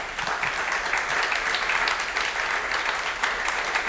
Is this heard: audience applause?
yes